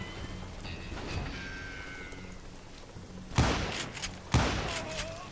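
Rifle gunfire in Call of Juarez Gunslinger: two sharp, loud shots about a second apart that ring out over a faint, hissing backdrop resembling rain, with thin tonal game sounds beforehand.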